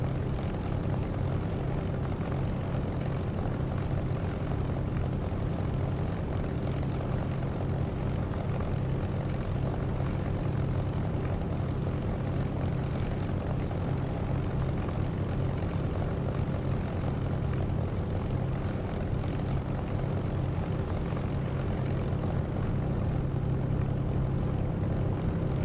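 Steady propeller aircraft engine idling and rumbling while taxiing in the DCS flight simulator, a continuous loud drone with a constant low hum and no breaks, running alone throughout.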